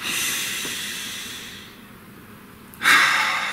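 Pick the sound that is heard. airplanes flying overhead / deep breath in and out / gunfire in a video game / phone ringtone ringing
deep breath in and out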